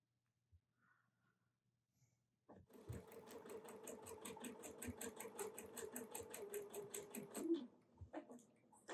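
A domestic sewing machine stitches a snowman quilt base in one continuous, fast, even run of rapid mechanical clatter lasting several seconds, close by, after a quiet start with a few small handling taps.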